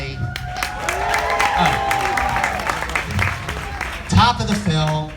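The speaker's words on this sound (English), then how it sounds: "by round of applause, how many of you are from LA or have ever been to LA?" Round of applause from a festival audience at a film-music interview session in Austin, crowd clapping and murmuring continuously with cheering voices and speech running over it.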